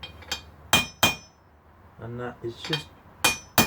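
Hammer blows drive a core plug into a Valmet Vire 7 or 12 marine engine block, several sharp metallic strikes in uneven pairs, close and loud, with someone speaking briefly between them.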